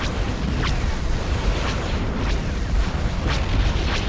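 Starship bombardment and ion cannon fire in a Star Wars space battle game, a constant dense roar of booming blasts with repeated sharp bursts cutting through.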